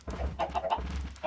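Chickens in the video game Minecraft give a quick run of short, close clucks in an irregular rhythm, fairly quiet and with no talk over them.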